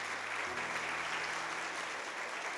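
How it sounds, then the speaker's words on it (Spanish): A church congregation at a Sunday service breaks into brief, dense applause for a couple of seconds, a steady wash of clapping with a faint hum underneath. "denle un aplauso al Señor"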